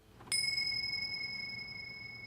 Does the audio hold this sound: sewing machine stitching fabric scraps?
no